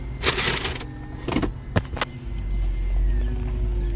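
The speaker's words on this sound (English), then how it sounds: "Let me put the car inside first" A Chrysler 300's engine rumbles low and steady while the car moves, with a few sharp knocks and clunks early on.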